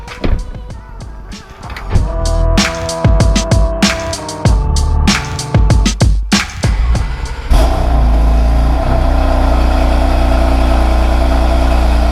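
A BMW M3 engine idles with clicks and knocks, then roars up into a sustained loud rev that holds steady to the end.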